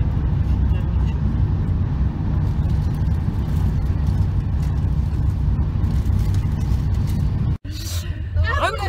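Steady low road rumble and engine drone from inside a moving car in Paris, continuous and fairly loud, broken by a sudden sharp cut and a brief rustle near the end.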